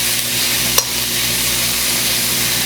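Pork stir-frying over high heat in a wok for black bean sauce, a steady loud sizzle with a constant hiss and a single brief clink of a utensil partway through.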